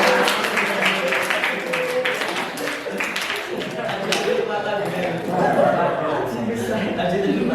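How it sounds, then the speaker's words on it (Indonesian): Classroom applause during a geography lesson, a steady wash of many hands clapping for about seven seconds with some chuckles and voices mixed in throughout. "Tepuk tangan untuk Angga."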